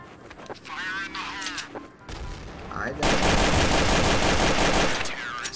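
Rapid bursts of automatic gunfire in Counter-Strike: Source, loud and dense, intensifying to a sustained barrage in the second half, with a player talking over the earlier shots.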